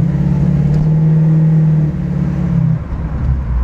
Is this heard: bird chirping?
no